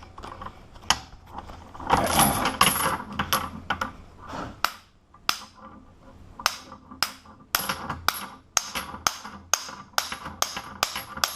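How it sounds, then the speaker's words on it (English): A hammer strikes an ASSA Stanley padlock in a run of sharp metallic blows, close and loud, irregular at first with a busy clattering stretch, then spaced single hits. "You know, we can take this thing with a hammer."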